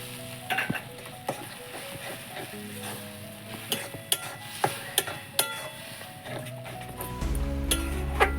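Tomato paste hitting hot oil and spices in a frying pan, a steady sizzle with sharp scraping stirs and clinks of a spatula, close up, swelling to a louder fry near the end.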